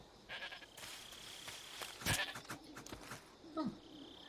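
Bleating from a markhor goat in the video game Metal Gear Solid 3, a few distinct bleats at moderate volume, with one louder cry in the middle and another near the end.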